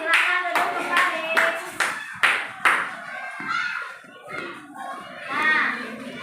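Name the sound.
children clapping hands in classroom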